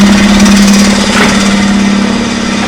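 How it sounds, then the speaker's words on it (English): A truck-repair air compressor runs loud and close, a steady motor drone with a strong low hum and faint rhythmic pulsing throughout. "Now we're going to turn the air compressor on."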